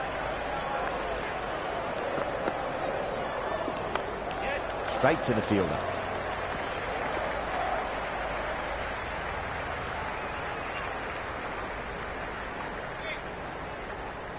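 Steady roar of a cheering cricket crowd in the Cricket 26 video game, a dense wash of noise filling the whole stretch with a brief swell midway, under a commentator's voice.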